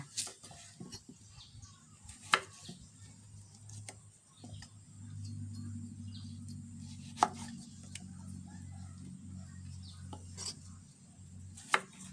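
Knife chops on a cutting board as carrot and daikon radish are cut for pickling, in sparse, sharp knocks with uneven spacing, fairly quiet over a soft low hum.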